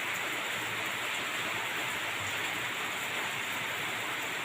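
Steady rain falls all day in Surin, Thailand, with runoff pouring from a roof, forming a continuous wash of hiss and splashing water with no clear individual drops and no voices.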